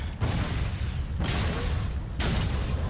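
Explosions in the action game Shank 2 come as three heavy booming blasts, about one second apart, each a loud broadband roar that fills the space before the next.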